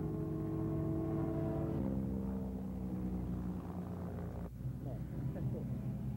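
A small jet helicopter flies at the 1995 Oshkosh airshow, giving a continuous droning turbine-and-rotor hum that stays fairly close and steady, with a slight shift partway through and brief talking over it near the end.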